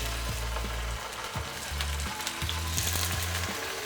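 Tofu sizzling and frying steadily in a generous amount of hot coconut oil in a skillet, a loud continuous crackle with occasional lower clunks of pieces settling into the pan.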